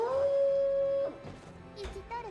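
A dog in the video game Utawarerumono lets out a long, sustained howl, followed by shorter whimpering yelps and yips, with faint background game sounds.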